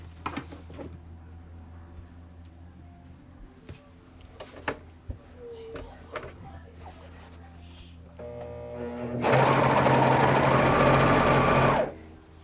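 A sewing machine stitches fabric for about three seconds near the end, a loud, close, fast whirring run after a stretch of quiet handling clicks and taps.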